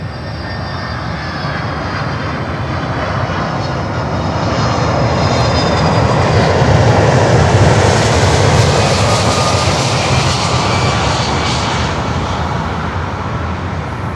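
A LATAM Cargo Boeing 767-300 widebody freighter landing at Miami airport, a loud, steady jet roar that swells in the middle and then eases, heard alone without talk.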